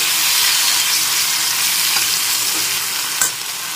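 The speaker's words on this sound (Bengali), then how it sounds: "একটু নেড়ে চেড়ে নিয়ে ভেজে নিতে হবে।" Raw mango pieces frying with whole-spice tempering in a pan for a prawn curry, a steady loud sizzle with stirring scrapes running throughout and no talk.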